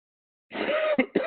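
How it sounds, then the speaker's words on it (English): A single short, rough cough bursts out, followed by two quick throat-clearing catches close to the microphone, with silence before it. "I have a cough in the morning always"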